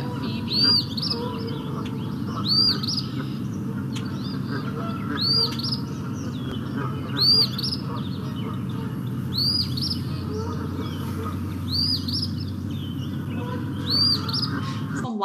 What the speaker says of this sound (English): There's that Phoebe.